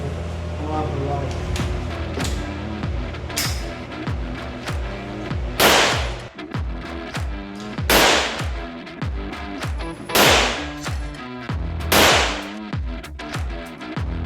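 A High Standard Supermatic Citation .22 pistol fires at an indoor range in a string of sharp, cracking shots spaced a couple of seconds apart, each with a short reverberant tail, close and loud, with voices in between.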